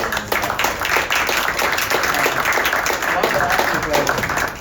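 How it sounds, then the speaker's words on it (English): An audience applauds the designers after a theatre performance talkback, a steady dense clapping that holds evenly from start to finish at moderate loudness. "the designers also, I think, deserve a round of applause."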